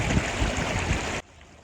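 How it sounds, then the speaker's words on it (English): Flowing water of a neighborhood creek rushes as a steady, loud broadband wash for just over a second, then cuts abruptly to a much quieter background. "I brought you to my favorite neighborhood creek."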